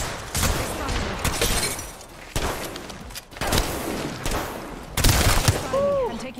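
Gunfire from the battle royale game Apex Legends, including 30-30 rifle shots, heard as several separate loud cracks and short bursts spaced a second or so apart, with clattering game effects between them.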